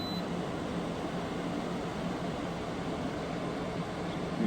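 A Midea 8000 window air conditioner runs on its high setting, giving a steady, loud broadband whoosh of fan and airflow with a low hum underneath, unbroken and with no talking.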